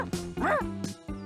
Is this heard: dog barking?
yes